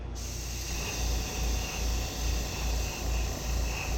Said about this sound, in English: Now we're going to spray the backs of these